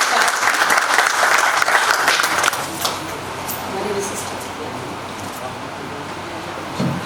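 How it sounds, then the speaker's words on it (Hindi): Audience at a Delhi seminar claps loudly to welcome a guest, dense applause that fades after about two and a half seconds into room murmur and scattered claps, with a voice speaking over the tail. "एक बार स्वागत है उनका भी जोरदार तालियों के साथ"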